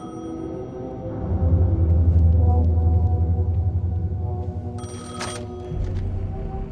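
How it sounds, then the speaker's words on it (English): A telephone rings in the video game Alan Wake 2, a loud, close electronic ring with sustained tonal pulses repeating over several seconds, heard alone without talking. "The phone was ringing."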